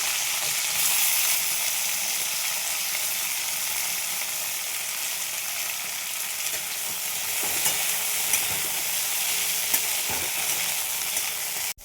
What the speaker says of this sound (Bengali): এবার আমি কপিগুলো ভেজে নেব।